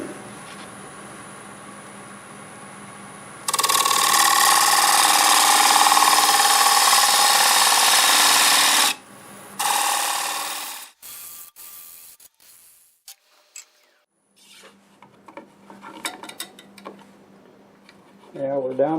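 A lathe turning fresh-cut English walnut with a 1/2 inch conventional grind gouge. A soft hum leads into a loud, steady hissing cut that stops abruptly, followed by scattered ticks, clicks and a brief voice.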